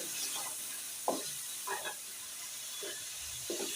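Ground red chili, turmeric and salt fry in oil in a pan for a cabbage keema dish, giving a steady soft sizzle broken by a few short scraping stirs.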